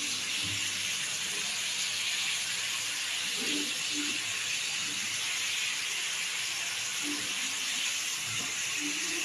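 Chopped onions go into hot oil, making a steady, even hiss that stays constant and moderately close, with faint clinks underneath.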